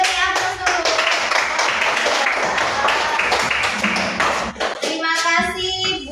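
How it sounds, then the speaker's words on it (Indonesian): A classroom audience claps together in a sustained round of applause after a student presentation, with children's voices rising near the end. "Kita beri aplaus dulu."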